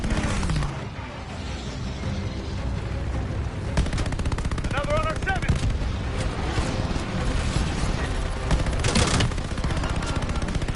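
Rapid gunfire from the Call of Duty Vanguard video game, dense bursts of shots running almost continuously over a busy battle soundscape, with a player's voice talking at times.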